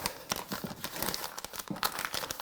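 Sheet of paper crinkles and crumples as it is folded up, a close series of crisp rustles and crackles with no voices.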